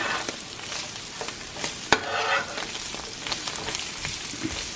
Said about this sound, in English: So just adding some onion powder. Then I'm going to stir it.